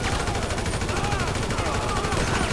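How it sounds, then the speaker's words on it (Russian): Gunfire in GTA 5 Online, a dense, continuous stream of rapid shots over a steady roar, with a helicopter overhead and talk running through it. "кто-то стреляет по мне"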